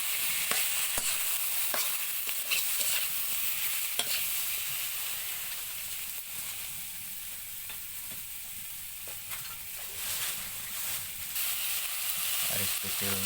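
Crab pieces sizzle in hot oil in a pan for guchila, a steady close frying hiss with occasional sharp spatters and stirring scrapes throughout.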